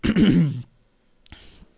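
A single rough throat-clearing cough up close, followed by a short silence and a faint breathy rustle.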